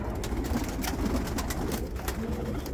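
Tumbler pigeons for sale coo in a loft, soft repeated low calls against a noisy, busy background over a few seconds.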